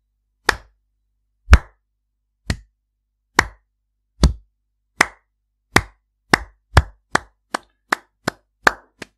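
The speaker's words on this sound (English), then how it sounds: "that is me clapping" A single person claps alone, thirteen sharp, separate claps close to the mic, slow and evenly spaced at first, then speeding up toward the end.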